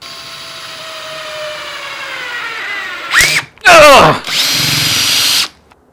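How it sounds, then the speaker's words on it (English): A spinning router with a bearing bit whines at high pitch while it winds up and dies away. Near the end come bursts of loud, rough cutting as it trims the edge of a wooden sign, close up, with a brief pause between passes. "get the router bit, and let's trim it on up"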